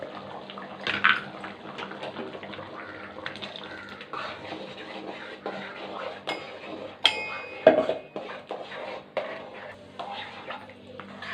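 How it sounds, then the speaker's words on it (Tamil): Coconut milk pours into a simmering pot of tangy black-eyed pea kara kuzhambu, a soft close liquid splash with occasional clinks of utensils against the pot. "இப்போது தேங்காய் ஊற்றலாம்."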